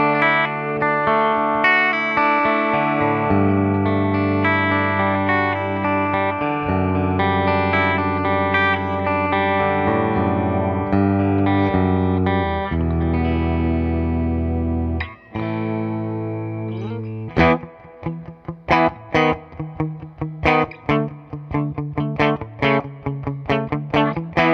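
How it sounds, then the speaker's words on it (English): Dean USA ML prototype electric guitar played through the bridge pickup, sustained distorted chords ringing with effects, then shifting to choppy, muted staccato strumming near the end; loud and alone with no talking. "Let's go to that bridge position, and now we'll hear kind of like the more sparkle."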